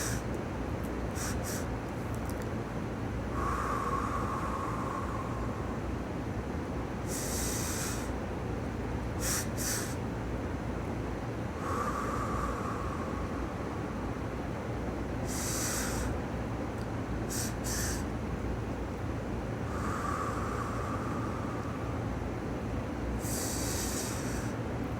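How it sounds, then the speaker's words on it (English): Breathwork exercise: pairs of quick, sharp sniffing inhales, each pair followed by a longer exhale. The cycle repeats several times at close range over a steady low background hum. "you're gonna do inhale 2 times real quick, and then exhale."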